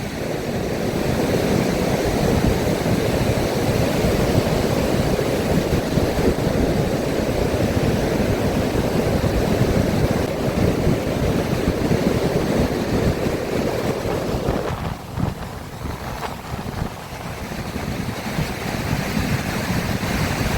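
Ocean waves wash ashore in a continuous roaring surge, with wind buffeting the microphone throughout.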